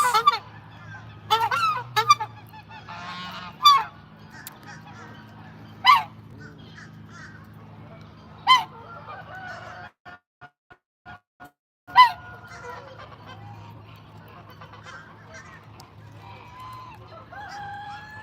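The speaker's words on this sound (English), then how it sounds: "The geese are my favorite animals here." Geese honk loudly and close by in scattered single and double blasts spread across a farm setting, with quiet stretches and a low steady hum between the calls.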